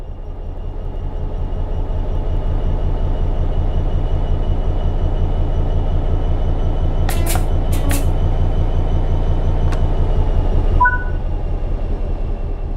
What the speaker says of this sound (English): As you apply power, notice the amp bar rising. This is the amount of power being fed into the traction motors.